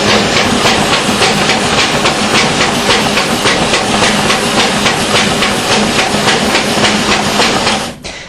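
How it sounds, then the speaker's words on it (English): A loud, continuous mechanical clatter and rasp of a Duplo V-350 high-speed forms burster tearing continuous paper and trimming the side edges, with a fast rhythmic pulse, ending abruptly. "many people do need a burster to tear that apart, cut the side trim off"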